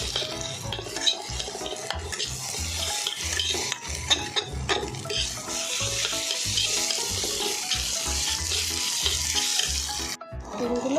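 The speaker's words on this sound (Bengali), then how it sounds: "ডিমগুলো ভাজা হয়ে গেছে" Eggs frying in a pan for chicken fried rice, with a steady close sizzle and scraping stirring sounds running throughout, a brief pause near the end before the sizzle resumes.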